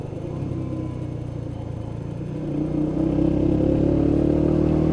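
A Lexmoto ZSB 125 motorcycle rides along with a steady low engine drone that grows louder and fuller partway through, with no talking.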